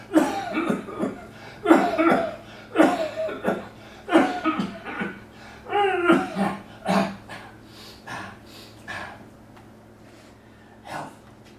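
A series of dry coughs and breathy gasps, repeated in bursts close to the mic, fading to fainter coughs near the end.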